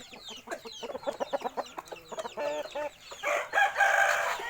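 Rooster crowing among clucking chickens and hens in a backyard flock of fighting-cock breed birds, with bursts of calls close by and fairly loud, with no other sounds.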